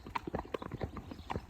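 Horse hooves clip-clopping at a steady walking rhythm during a relaxed hack out, close and distinct, with a few soft background sounds and no talk.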